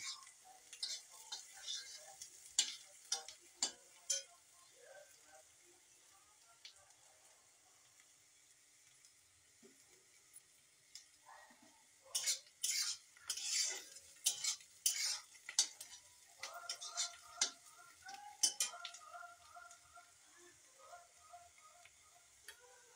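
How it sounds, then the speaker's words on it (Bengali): Onions frying in a pan while being stirred with a utensil, with soft sizzling and irregular scraping and clinking strokes that come in bursts, close and fairly quiet, with no talking. "দেখো বন্ধুরা, পেঁয়াজটা আমার ভাজা হয়ে যাচ্ছে"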